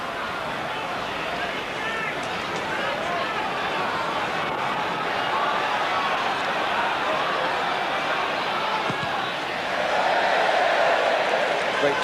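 A football stadium crowd at a 1990–91 Tottenham versus Manchester United match keeps up a steady, distant roar of voices that swells louder near the end, with a commentator talking over it.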